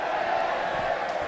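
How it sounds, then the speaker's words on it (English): Rugby league crowd of Barrow Raiders fans at a Challenge Cup match giving a steady, massed ironic cheer and roar, continuous and fairly loud throughout with no pause. "It's another ironic cheer from the Raiders fans as that ball goes way wide of the mark here."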